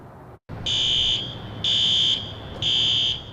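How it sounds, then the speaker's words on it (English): A fire alarm sounds near a building on Franklin Street after a warehouse explosion, giving three loud, steady high-pitched buzzing tones with short gaps between them over a low background rumble. "Sirens and fire alarms filled Franklin Street Tuesday afternoon"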